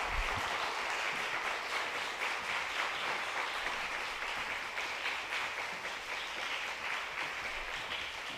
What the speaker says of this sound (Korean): 단에 올라오실 때까지 박수 치시기 바랍니다.